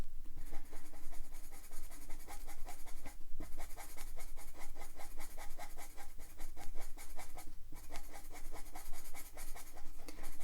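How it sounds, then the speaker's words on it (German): Pastel pencils scratching and blending colours on paper, a fast, steady stream of close, dry strokes with brief pauses, rhythmic back-and-forth rubbing filling the whole stretch. "Schon mit den Stiften selber blende ich die Farben eigentlich sehr, sehr gut ineinander."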